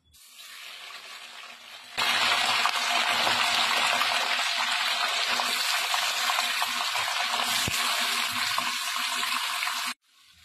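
Chicken frying in hot oil with whole garam masala spices while being stirred, a loud, dense sizzle that bursts in abruptly, holds steady for several seconds close up, then cuts off; no voices.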